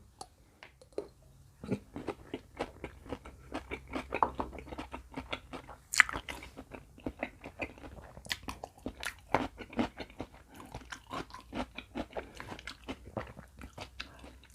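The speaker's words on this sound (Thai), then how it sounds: "คือมันจะกัด โดน กระเทียมทนดอง สุดท้าย อันสุดท้ายเลยคือเป็นกัดโดนกระเทียมดองครั้งแรกรสชาติของแซลมอน" Raw salmon with pickled garlic and seafood dipping sauce is bitten and chewed close up from a glass, a steady run of wet crunches and squishy bites at an irregular rhythm.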